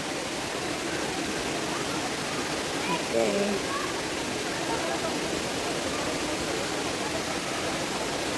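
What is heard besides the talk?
flowing water from pool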